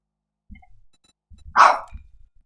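A dog barks once from downstairs, a single sharp, slightly muffled bark rising out of near silence with a few soft thumps around it.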